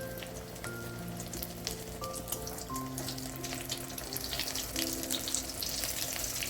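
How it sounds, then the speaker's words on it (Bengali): Ash gourd slices frying on low heat make a gentle, continuous hiss with scattered crackles that grows slightly busier, heard under soft background music. "কম আঁচে ভাজতে হবে যাতে ভেতরটা ভালো মতো সেদ্ধ হয়"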